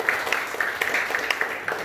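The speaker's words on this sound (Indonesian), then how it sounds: "Dan tema hal ini luar biasa, tepuk tangan buat Tuhan Yesus." A church congregation claps in a quick, fairly regular rhythm, with crisp individual claps at moderate loudness over a short stretch.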